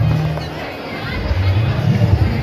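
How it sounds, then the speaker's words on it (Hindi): Wedding guests crowd a dining area, eating and chatting in a low murmur of babble under a nearer voice, with a steady low hum beneath. "पूरा भीड़ है यहाँ पर, सब खाना खा रहे हैं यहाँ से यहाँ तक"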